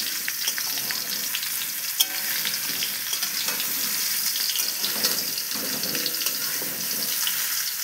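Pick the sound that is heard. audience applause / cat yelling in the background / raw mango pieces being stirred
raw mango pieces being stirred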